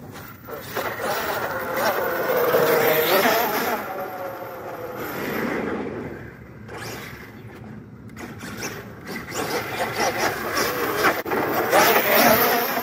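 An Arrma Outcast 8S EXB RTR RC car runs at full throttle, its loud electric motor whining and surging almost nonstop for the whole stretch, with brief dips and swells in intensity.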